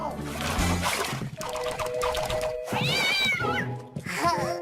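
A cartoon cat meows and caterwauls loudly in long, rising and falling cries, with splashing water and voices speaking around the calls.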